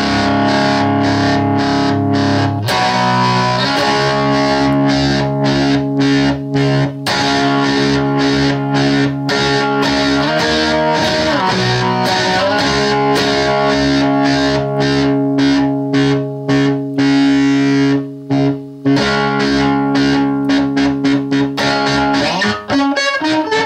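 An electric guitar runs through a Cusack Music Tap-A-Fuzz pedal, loud and heavily fuzzed, with continuous chords and riffs and a few short chopped gaps over more than twenty seconds, with no talk.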